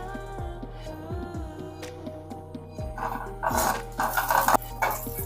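Cashews and raisins fry in melted ghee in a pan, with close spoon clatter and stirring scrapes that grow busier toward the end over a faint sizzle and a steady background hum.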